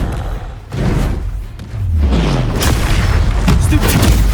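Spell impacts from the Hogwarts Legacy video game: a sudden boom near the start, then a swelling, rumbling thud with a swooping low tone, loud and dense against game ambience.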